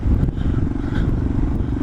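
Suzuki DR650 motorcycle engine riding in fourth gear at lowered revs, a loud, close, steady thumping drone with wind and road noise.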